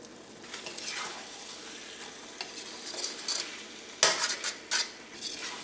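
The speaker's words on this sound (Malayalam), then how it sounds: "കറി നമുക്കൊന്ന് ഇളക്കിയിട്ട് കൊടുക്കാം" Restaurant-style kadhai chicken curry stirred in a pan over medium flame, quiet sizzling with scattered scrapes and clinks of a spoon against metal, growing louder and sharper near the end.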